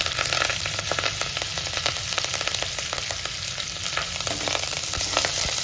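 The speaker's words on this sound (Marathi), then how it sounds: "मी क्रश केलेलं लसूण टाकलेलं आहे कढीपत्ता घालायचा भरपूर" Crushed garlic and curry leaves frying in hot oil for dal khichdi, a loud, dense, continuous sizzle and crackle with rapid spattering pops across the whole stretch.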